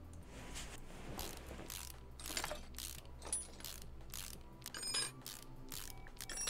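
Rapid ratchet clicking from bolts being removed in Car Mechanic Simulator during a transmission job, repeated bursts of mechanical ratcheting at steady moderate volume with no talking.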